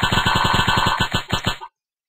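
Rapid gunfire from a Flash flight simulator video game: a steady burst of evenly spaced shots, about a dozen in quick succession, loud and close, then a few irregular shots before it stops abruptly.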